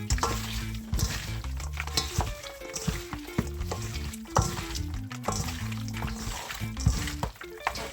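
Seasoning with black pepper being mixed into meat for Trinidadian pelau, soft wet stirring and clinking of utensils against a bowl, steady and close, with background music playing throughout.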